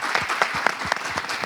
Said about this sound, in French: on va applaudir le Bénin déjà